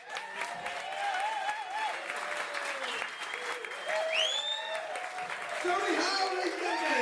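A comedy club audience applauds a stand-up comedian leaving the stage, sustained clapping from a crowd filling the room while a host talks loudly over it throughout.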